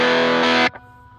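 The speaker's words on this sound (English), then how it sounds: "So the Mulan Distortion on." A thick, saturated electric guitar chord rings out loudly through a Mulan Distortion pedal, then cuts off abruptly, leaving a faint hum.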